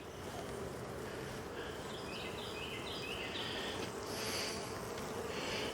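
Honey bees buzz in a steady, dense drone inside an open, honey-bound horizontal hive. The hum is soft and continuous, with no voices.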